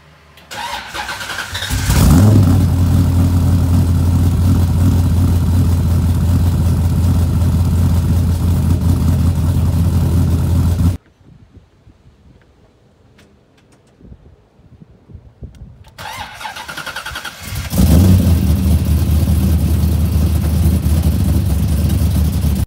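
A Corvette C6 Z06 engine cranks and roars to life, holding a loud rumbling idle, cuts out briefly, then restarts and revs up strongly again.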